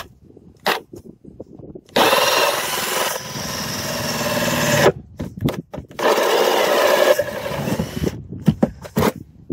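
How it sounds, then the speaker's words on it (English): A power drill bores a 2-inch hole for foundation waterproofing in two long, loud bursts, separated and followed by short clattering handling noises. "So now we're going to drill the 2-inch hole."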